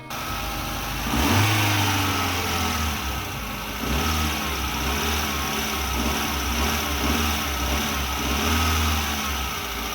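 A Hyundai Santro car engine runs steadily just after an oil change, giving a continuous low idle hum with a few mild swells in revs throughout, fairly close and with no talking.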